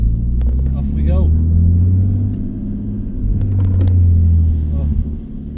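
A 1999 Nissan Skyline R34 GTT with a 2.5-litre single-turbo engine pulls away, its deep exhaust rumbling and swelling twice under acceleration, close by, while someone talks over it.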